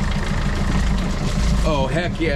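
Yanmar 4JH-HTE marine diesel engine on a 25-foot Ranger Tug at its first start-up, a loud, steady low rumble running throughout while someone speaks excitedly over it near the end.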